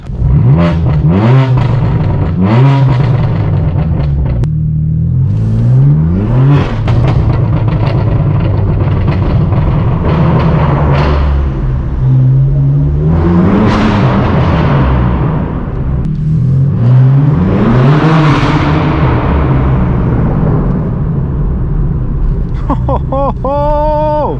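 A loud straight-piped BMW M4 F82 exhaust roars and revs repeatedly on Los Angeles streets, surging through several hard accelerations with rising pitch, close and continuous throughout.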